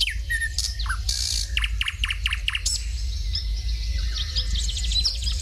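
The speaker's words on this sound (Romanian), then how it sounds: "Privighetoarea de zăvoi" A thrush nightingale sings outdoors in Romania, a rapid run of clear whistles, rattling chirps and repeated sharp notes, fairly close and continuous over a low background rumble, with no voices.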